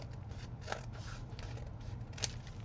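Scissors snip paper in short crisp cuts at close range, a few distinct bursts over a steady low hum while someone folds and tucks craft leftovers.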